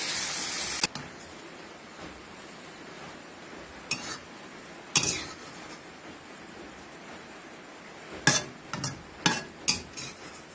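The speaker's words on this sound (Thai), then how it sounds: "ผัดผัดด้วยไฟแรงแล้วจะทำให้สายบัวไม่ดำเนาะ" Lotus stems stir-fried over high heat in a pan, with scattered metallic clinks and scrapes of a utensil against the pan over a low steady sizzle, the clanks clustering toward the end.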